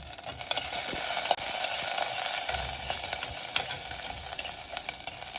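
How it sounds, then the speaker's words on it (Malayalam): Chili, ginger, onion, shallot and garlic fry in hot oil for tomato chutney, giving a steady close sizzle with crackling pops and one sharp louder spit, no talk over it. "അപ്പോൾ ഞാൻ എണ്ണ ചൂടായപ്പം ഞാൻ ഇവിടെ ആദ്യം മുളക്, പിന്നെ ഇഞ്ചി, ഉള്ളി, സവോള, വെളുത്തുള്ളിയൊക്കെ ഇടും."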